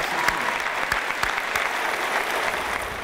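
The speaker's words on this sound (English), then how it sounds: "I just want to give them a round of applause." An audience at a graduation ceremony applauds with steady, dense clapping that fills the room at an even level from start to finish, with a few sharper claps standing out.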